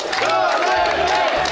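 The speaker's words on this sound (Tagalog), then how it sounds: "At sa lakas ng sigawan, aakalain mong isa itong kampanya" A dense crowd shouts at a Duterte listening tour rally, a loud continuous roar of many voices with some individual calls rising above the mass, close and unbroken throughout.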